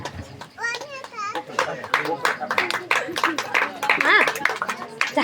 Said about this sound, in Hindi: कुमारी भगवती के लिए जोरदार तालियां हो जाएं।